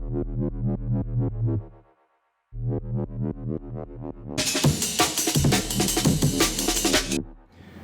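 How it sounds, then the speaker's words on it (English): Synthesized wompy wub bass for a jungle production, pulsing in a dotted rhythm with repeated wobbling notes, a brief pause, then a brighter, gritty wub passage layered with a full mix before fading. "So moving on to this next sound I've called a womp."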